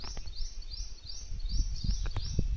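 An eagle near a village well gives a series of short, repeated high calls at a moderate distance, over low rustling and handling noise.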